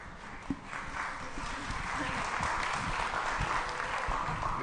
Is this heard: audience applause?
yes